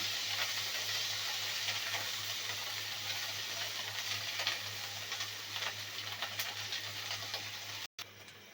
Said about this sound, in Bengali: দিয়ে দেব পেঁয়াজ বাটা। নেড়ে চেড়ে এটা ভেজে নেব।